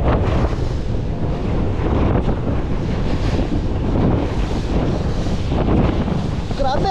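Strong wind buffeting the microphone over rough ocean waves aboard a boat in the deep sea, a loud continuous roar with surging water, faint voices underneath.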